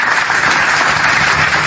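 Audience applause fills a religious sermon hall, a dense, steady wash of many hands clapping together at close range, loud and continuous throughout without any voices over it.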